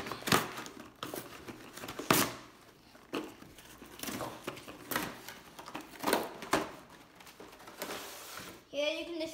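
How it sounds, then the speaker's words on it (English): Cardboard and plastic packaging of a Pokemon Unova GX box is ripped open by hand, close crinkling and tearing bursts repeating irregularly, with quieter pauses between them. "I'm just gonna rip it open."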